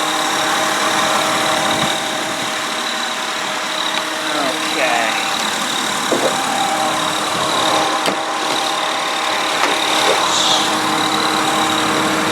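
A 2001 Honda Odyssey EX minivan's 3.5 liter V6 idles steadily under the open hood, an even, smooth hum with a faint belt squeak, as someone speaks briefly over it.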